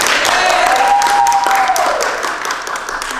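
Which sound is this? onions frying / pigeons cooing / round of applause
round of applause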